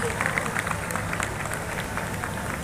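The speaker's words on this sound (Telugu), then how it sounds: "Claps everyone please." An audience applauds at a junior college cultural event, a Nava Utsav program, with sustained clapping from a crowd. The clapping is moderately distant and even, with a faint murmur of voices underneath.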